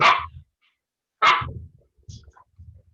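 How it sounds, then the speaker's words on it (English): A dog barks nearby: two sharp, loud barks about a second apart, followed by softer muffled thumps and a faint whimper, with no voices. "Dogs, man, they're the worst."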